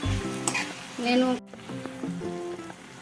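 Mint and coriander leaves fry in a pan, with a steady close sizzle and brief stirring scrapes over background music.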